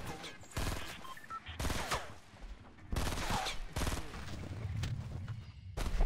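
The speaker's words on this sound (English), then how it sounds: "I'm getting shot right in the back" Bursts of Fortnite gunfire, a few sharp volleys of shots spaced a second or so apart over quieter game ambience.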